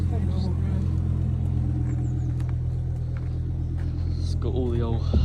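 A Volvo V70 T5 engine idles just after start-up with slight tapping, a steady low rumble throughout while voices talk over it nearby.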